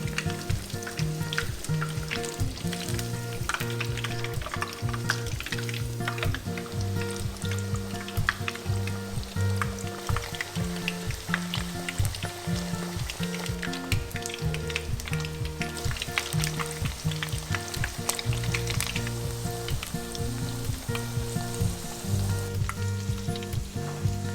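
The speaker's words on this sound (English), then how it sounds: "Keep frying chicken." Continuous bubbling sizzle of Japanese karaage chicken deep frying in hot oil on a second round of frying, dense crackling and popping that stays steady throughout, close and fairly loud.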